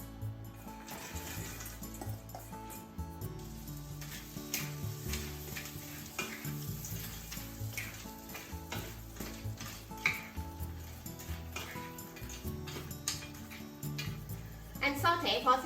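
Green beans sauté in melted butter and oil over medium-high heat, a soft continuous sizzle with light ticking and occasional utensil taps, fairly quiet and close, with a voice talking over it.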